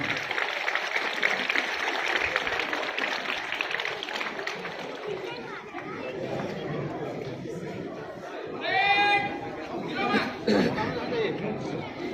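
Crowd at a school flag hoisting ceremony and parade, with continuous chatter building into scattered clapping and cheering, a couple of louder bursts of applause later on, a voice speaking over the noise.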